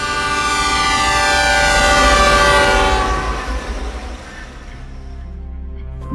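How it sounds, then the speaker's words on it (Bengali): A train rushes along loudly with a heavy rumble and a sustained horn-like wail, then the roar eases and fades toward the end. "ট্রেনটা তখন বেশ জোরে ছুটতে শুরু করেছে।"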